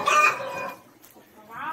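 A hen on a farm gives a loud, close cluck, a brief pause, then a second rising call.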